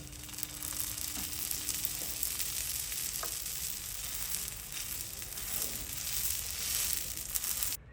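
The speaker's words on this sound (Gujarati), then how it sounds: "હવે આપણે બીજી બાજુ ફેરવીને શેકી લઈશું. પાછું 2 ટીપા એટલું તેલ નાખીશું." Dabeli bun toasting in a little oil on a pan, a steady close sizzle and fry crackle running the whole time with occasional light scraping or stirring touches.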